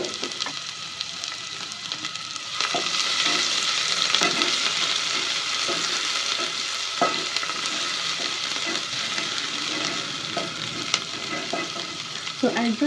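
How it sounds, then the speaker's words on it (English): Onions fry in hot cooking oil for homemade corn rice, giving a steady, close sizzle that swells after a few seconds and holds, with occasional soft stirring taps. "So I'll just let my onions turn translucent."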